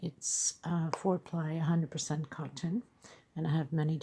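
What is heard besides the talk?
None of the usual background noises is heard.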